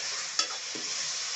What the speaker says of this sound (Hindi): और मिला लेते हैं हम लोग अच्छी तरह से नमक मिर्चा को।